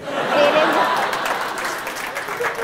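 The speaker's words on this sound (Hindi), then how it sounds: "तालियां बजती रहनी चाहिए" A studio audience at the talk show To Be Honest 3.0 gives lively applause with some laughter and overlapping voices. The clapping is loud and peaks early, then keeps going.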